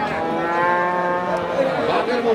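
A dairy cow at a livestock market in Bangladesh letting out one long, loud, close moo that rises and wavers, with no talking over it.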